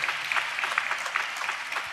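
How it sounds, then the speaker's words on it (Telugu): A congregation claps at a church sermon, with dense, rhythmic applause that stays loud and continuous throughout, and no voice is heard over it. "చప్పట్లు కొడుతూ స్తోత్రాలు చెప్పు."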